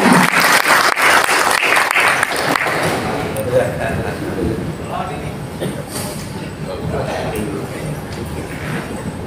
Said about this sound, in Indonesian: Beri tepuk tangan yang meriah untuk Bapak Puspa